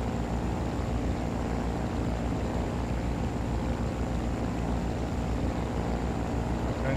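A de Havilland Beaver propeller airplane landing at Lukla, Nepal gives off a steady, loud, unbroken engine drone mixed with broad rushing noise for several seconds.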